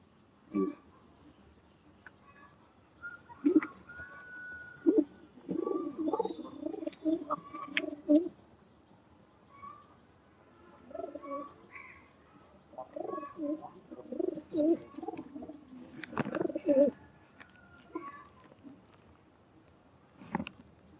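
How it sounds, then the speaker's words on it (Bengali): Several domestic pigeons coo in low, throaty bursts, close by, with pauses between calls and a quiet background. "এদিকে সবই দেশি কবুতর"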